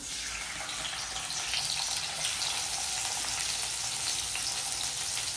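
Onions fry in a pan as part of a home-cooked goat trotter fry, giving a steady, close, broadband sizzle that sounds almost like running water and never lets up, with no voices.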